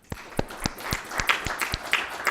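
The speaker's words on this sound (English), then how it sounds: "I would like to ask you all to give a round of applause to our speakers" Scattered hand claps from a small conference audience thanking panel speakers, a handful of sharp, uneven slaps spaced across a couple of seconds, fairly close and without talk.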